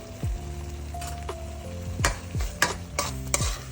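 Cumin-coriander masala with chili powder fries in a pan, a steady sizzle broken by a few sharp scrapes and clacks as the mixture is stirred.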